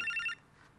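A telephone rings once with a short, bright electronic trill that cuts off abruptly, then fades into quiet room tone.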